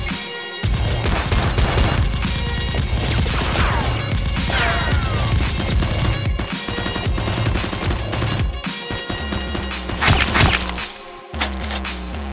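Dense, continuous gunfire fills the scene with rapid overlapping bursts, loud and close, mixed with crashing, mechanical clatter and a sharp burst near the end.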